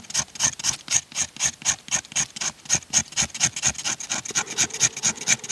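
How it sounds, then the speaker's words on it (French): Fatwood scraped onto a bed of wild cherry bark at an autumn bushcraft bivouac: a close, steady run of quick rasping strokes, roughly four per second, with no talking. "Je gratte un peu de bois gras dessus."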